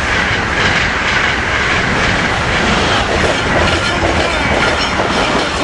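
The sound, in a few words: two Amtrak Acela trains passing each other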